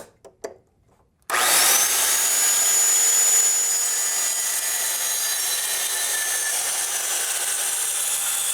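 Power saw cutting through wooden boards for a farmhouse table. After a few brief knocks, the saw starts with a loud, steady whine that holds for several seconds.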